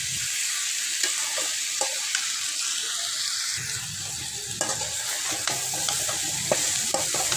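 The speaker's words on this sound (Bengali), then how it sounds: "একসঙ্গে ভালোভাবে মিশিয়ে নিতে হবে হলুদের সঙ্গে" Raw mango pieces with turmeric powder are stirred in a pan while cooking into a sweet-and-sour pickle: a continuous close sizzle broken by scattered light scrapes and taps of the spoon, with no talking.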